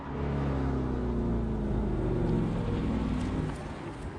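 A 2017 Ford Mustang GT with its V8 drones steadily while driving, a deep low rumble holding near-constant, then easing slightly toward the end.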